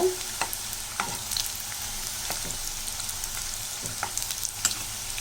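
Evening snacks frying in hot oil in a pan, turned over one at a time: a steady crackling sizzle broken by sharp clicks and scrapes of the utensil, heard close and alone.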